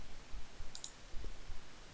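Mouse clicks while copying parts in CAD software, a couple of faint, sharp clicks over a quiet background hiss.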